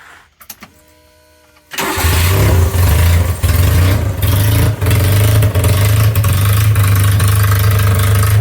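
A Mitsubishi U15T-HFD engine cranks briefly with a few quiet clicks, then catches and runs at a loud, steady idle with slight wavering, as if the throttle sticks a little. The engine has new gas lines after its tank was flushed.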